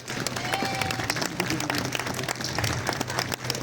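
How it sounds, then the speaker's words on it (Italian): Crowd at an outdoor Befana bonfire festival in Adria applauding, a short burst of scattered, lively clapping with some crowd noise. "Applauso."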